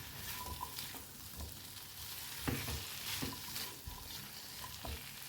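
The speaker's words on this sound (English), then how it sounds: "Add in the potatoes back into the kadhai. Toss to mix with the masala and the peas." Potatoes with masala and peas are tossed and fried in a kadhai, giving a steady sizzle broken by repeated scraping stir strokes and soft thumps up close.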